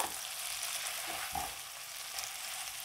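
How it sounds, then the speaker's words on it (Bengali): Bread pieces frying in a pan while being stirred and mixed, giving a steady faint sizzle with soft scraping stirs. "এবার নেড়ে চেড়ে একসাথে খুব ভালো করে মিশিয়ে নেব"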